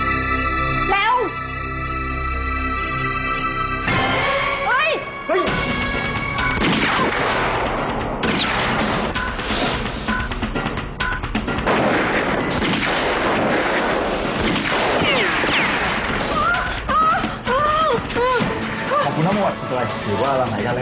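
Gunfire in a Thai television drama action scene, repeated sharp shots and crashes spread across a long stretch, mixed with shouting voices and dramatic music.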